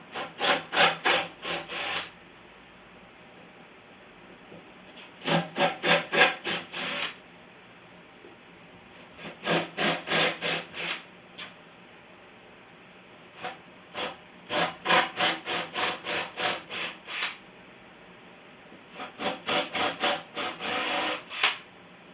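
Tool working into a wooden table during a table build, heard as five bursts of rapid, rhythmic rasping strokes separated by brief pauses, fairly close and loud with no talking.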